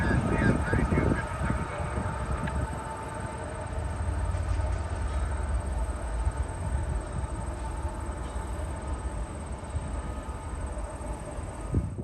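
CN yard locomotive 3257 rolls past at Macmillan Yard, a long, loud rumbling pass with clattering wheels and a steady high whine overhead, easing slightly toward the end, with voices faintly under it.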